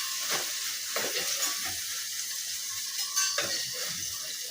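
Food sizzling steadily in a frying pan while making khichuri, with intermittent scraping and stirring clinks of a utensil against the pan over a continuous hiss.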